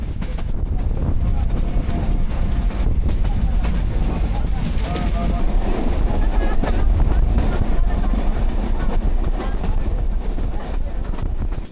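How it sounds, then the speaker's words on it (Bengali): A train rolls across the colonial-era Hardinge Bridge over the Padma river during rain, producing a loud, steady, unbroken rumble mixed with wind and rushing noise for the whole stretch. "এবার আমাদের ট্রেন যাত্রা শুরু করলো ইংরেজ আমলে পদ্মা নদীর উপর নির্মিত বিখ্যাত হার্ডিঞ্জ ব্রিজের উপর দিয়ে।"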